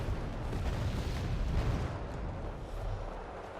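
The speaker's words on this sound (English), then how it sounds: "just got some artillery, lots of artillery in the middle" Artillery fire in the Wargame Red Dragon strategy game, a dense rumbling barrage of overlapping booms and bursts that is loud and steady throughout and eases slightly toward the end.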